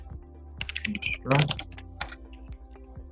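Quick keystrokes on a computer keyboard as a command is typed into the Grasshopper canvas, a short burst of close clicking clatter under a voice.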